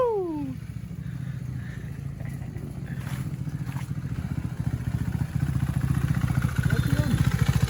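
A revved-up modified Italjet Dragster scooter engine with Malossi parts and exhaust idles with a rough, rapid throb that grows louder and more aggressive toward the end; voices are heard briefly beneath it.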